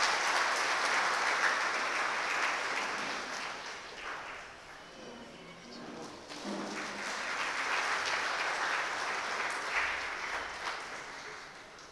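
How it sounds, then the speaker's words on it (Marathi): An audience at an informal volunteers' get-together claps during a felicitation, with steady, dense applause that eases briefly midway and then swells again for the rest of the stretch. "टाळ्या वाजवायला हरकत नाही"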